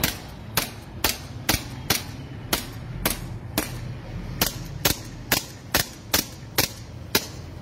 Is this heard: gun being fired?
yes